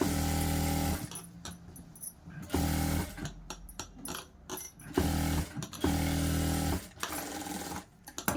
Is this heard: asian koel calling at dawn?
no